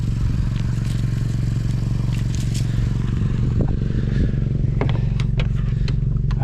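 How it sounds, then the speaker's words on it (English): A motorcycle with a loud muffler drones steadily and close throughout, with a low continuous engine rumble and scattered rattles and scrapes over it. "I hope I don't wake anyone up with my loud muffler."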